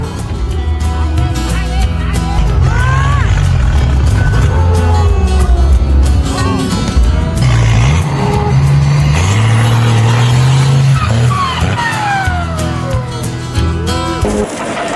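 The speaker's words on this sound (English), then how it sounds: "The whole neighborhood hears the engine roaring like a beast." Heavy vehicle engine roars loudly and steadily near a bulldozer and truck at a construction site, with pitch rising and falling as it revs, and voices faintly underneath.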